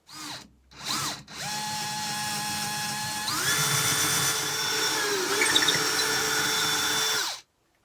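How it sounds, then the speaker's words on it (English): A power drill with a long 8mm bit whines up in short bursts, then runs steadily, its pitch shifting as the bit bores straight through timber in a caravan, stopping abruptly at the end. "use the 8mm long drill bit and drill straight through this timber to the speaker hole"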